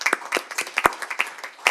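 A city council meeting audience gives scattered applause, a handful of distinct, fairly close hand claps at an uneven pace that trails off after a couple of seconds.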